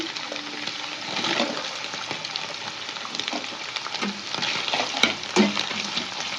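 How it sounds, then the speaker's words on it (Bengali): Chopped onions sizzle and crackle steadily in a hot pan, with occasional scraping stirs and a louder clatter near the end. "পেঁয়াজটার মধ্যে দিয়ে আমি একটু ভাজা ভাজা করে নিয়েছি"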